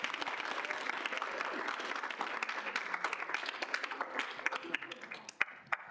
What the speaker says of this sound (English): Woo, round of applause